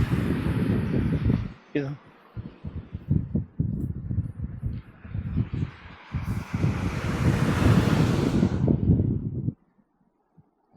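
Gusty wind buffets an outdoor microphone almost continuously, a loud low rumble under casual talk, then dropping away near the end.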